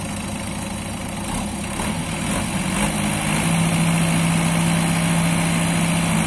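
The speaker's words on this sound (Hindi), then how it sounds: "अब देखेंगे सोनाली का की ताकत, मशीन को कैसे खींच के लेके जाएगा यहाँ से" Sonalika 750 55 hp tractor engine straining as it pulls a machine, a loud continuous low rumble that builds slightly in load over several seconds, close and steady with no voices.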